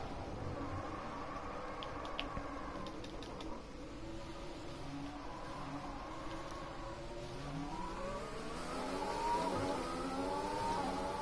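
Race car engine in a PS4 racing game revving and accelerating, a moderate, steady engine tone that climbs in pitch through the gears toward the end, heard without talk.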